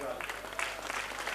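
Thin, scattered clapping from an audience at a Hindi kavi sammelan honouring martyrs, brief and fairly subdued, with a voice heard under it.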